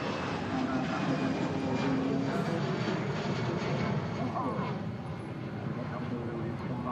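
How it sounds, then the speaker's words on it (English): An EasyJet airliner departs Manchester Airport outbound for Faro, its broad engine roar steady and fairly loud throughout, with people talking over it. "Here's the Faro outbound from EasyJet,"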